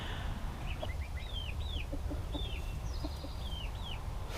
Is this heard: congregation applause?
no